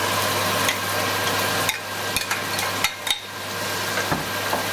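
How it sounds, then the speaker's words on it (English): Salted beef frying in a pot for kronto bana, stirred continuously, with a steady loud sizzle broken by sharp scraping and clanking knocks of the utensil against the pan. "we are now going to add the salted beef. And this is after a minute or 3 to 5 of continuous stirring and"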